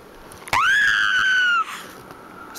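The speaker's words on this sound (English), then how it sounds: "what was that? That was some scream, man." A single drawn-out scream in Halo video game machinima, rising sharply then holding a loud, steady, tonal wail for about a second before cutting off, with no talk over it.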